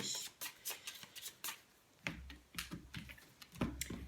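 Tarot cards shuffled by hand nearby, with a series of crisp, irregular flicks and riffling taps, briefly pausing midway before resuming.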